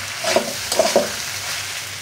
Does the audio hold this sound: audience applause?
no